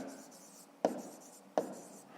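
A pen writes on paper close by, a soft continuous scratching broken by two sharp taps as the pen strikes the page.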